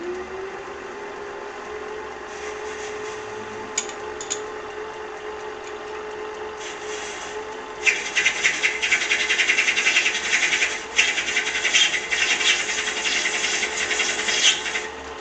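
A light cleanup cut on 1.25-inch metal stock in a small lathe, steady motor hum beneath, with a scraping, rasping cutting noise that grows louder and denser partway through and continues to the end.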